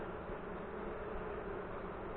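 Honey bees drone around an open backyard hive during a June inspection, a faint, continuous buzzing hum with no voices.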